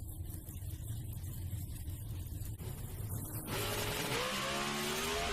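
Drag racing cars launch at the Pomona drag strip as a loud, dense engine roar swells, then shifts into a rising high-pitched whine as the cars pull away.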